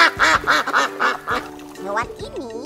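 A duck quacks in a children's animation, a quick run of four or five nasal quacks followed by a couple more after a brief pause, loud and close.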